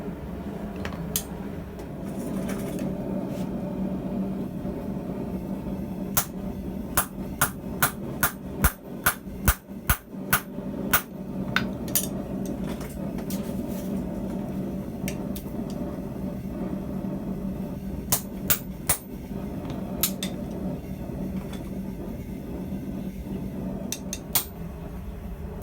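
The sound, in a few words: hammering a maker's mark onto blacksmith tongs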